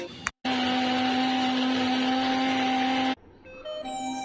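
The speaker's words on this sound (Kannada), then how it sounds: "ಈಗ ಮಿಕ್ಸಿ ಜಾರಿಗೆ ಸ್ವಲ್ಪ ನೀರನ್ನು ಸೇರಿಸ್ಕೊಂಡು ಚೆನ್ನಾಗಿ ರುಬ್ಕೊಳ್ಳಿ" A kitchen mixer grinder whirs as it grinds spice paste of chillies and tamarind with a little water, a loud steady motor whine running about three seconds before cutting off abruptly.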